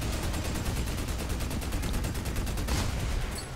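Sustained rapid turret gunfire from the video game Army of Two: The Devil's Cartel, a dense, steady stream of loud automatic shots with no pauses, running alone throughout.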